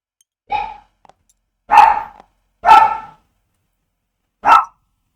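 A dog barks four times, close and loud, with short silent gaps between the barks.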